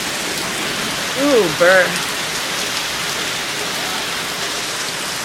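Heavy rain pours down in New Mexico in July, a dense, loud, continuous hiss of water striking surfaces close by, while a person briefly murmurs a couple of short sounds partway through.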